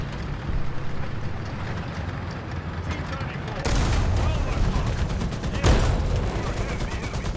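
Tank cannon fire and battle noise in the War Thunder video game, with two sharp heavy blasts over a continuous rumble of engines and combat.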